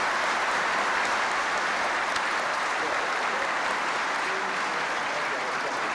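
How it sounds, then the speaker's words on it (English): Steady applause from an outdoor Veterans Day audience welcoming distinguished guests, a dense, even wash of many hands clapping that holds at a constant loud level throughout with no voices on top. "can we hear some applause for these very distinguished guests?"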